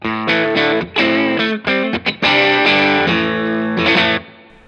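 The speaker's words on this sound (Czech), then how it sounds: "V téhle mezipoloze jsou oba dva ty humbuckery dohromady a zní to takhle." Godin Summit Classic electric guitar with both humbuckers combined, driven through distortion and light chorus, strumming a punchy riff of sustained chords broken by short muted gaps, close and loud without any voices.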